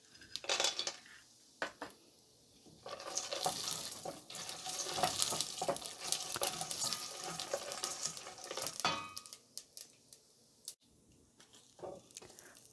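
Peanuts frying with urad dal for lemon rice, crackling and sizzling in a pan alongside metal clinks and stirring scrapes, louder bursts in the middle, close by, no voices.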